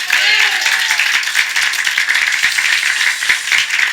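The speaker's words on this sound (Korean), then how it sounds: "그렇게 믿는 우리 하나님께 박수로 영광." A congregation in a Korean church claps together during a Sunday morning service: loud, dense, rattling applause from many people that holds steady throughout.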